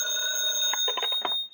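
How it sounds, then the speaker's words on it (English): A telephone bell rings at a neighborhood Autolite spark plug dealer's shop, a steady sustained ring heard close and alone, fading out at the end. "his phone rang"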